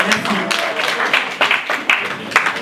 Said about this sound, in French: encore un applaudissement pour Monsieur Abel Dibassa